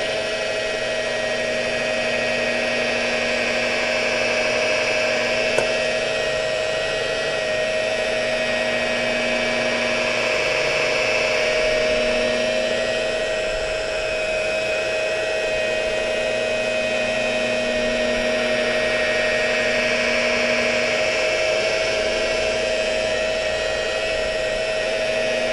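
A steady high-pitched mechanical whine from a rotary polisher at about 1200 RPM with a foam pad, buffing bumper cover paint with compound, runs continuously, close and loud, with slight shifts in pitch as it works.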